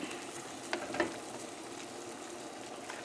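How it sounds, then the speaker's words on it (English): Pork shoulder simmers in a covered pot on a stovetop burner, a faint, steady low bubbling and soft sizzle with a couple of small pops, no talking. "this is going to simmer"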